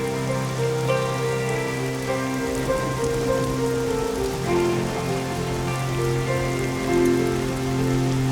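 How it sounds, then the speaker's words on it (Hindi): Steady rain falls throughout a dramatic film scene, a dense continuous patter held at an even level while sustained musical tones ring beneath it. "बारिश आने वाली है"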